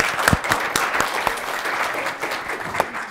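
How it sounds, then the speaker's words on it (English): An audience applauds panelists at a sports communication symposium session, a steady wash of clapping from a seated crowd with a few sharper nearby claps standing out, sustained throughout. "let's give the applause to our panelists for their presentation"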